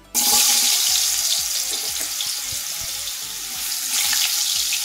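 Cut potatoes dropped into hot mustard oil, bursting into a loud, steady hiss of frying that fills the clip, with faint clinks beneath.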